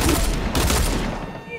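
Rapid burst of video game gunfire, dense loud cracks packed together in a short fusillade that fades out, with talk mixed in.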